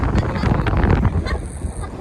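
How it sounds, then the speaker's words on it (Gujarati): Strong wind at a seaside beach on the Suvali shore, a loud continuous rumbling buffet against the microphone with gusty surges, and faint voices underneath. "બહુ પવન આવે છે"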